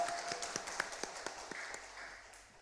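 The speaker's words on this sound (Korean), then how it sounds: "하나님께 영광의 박수 올려드리시겠습니다" A church congregation at a Sunday service gives a short round of applause, with scattered, fairly faint claps that fade out after a couple of seconds.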